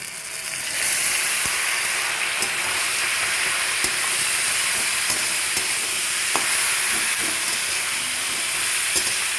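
Crushed pointed gourd (parwal) ground with tomato and chilli is tipped into hot oil with fried garlic, and a loud steady hiss and sizzle takes over after a quieter start, with occasional stirring clicks.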